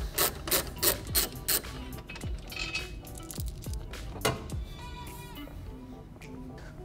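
Ratchet wrench loosening the 13 mm bolts on the intake brace of a BMW N55 engine, with quick rhythmic clicking bursts up close, then slower turns and a few metallic knocks.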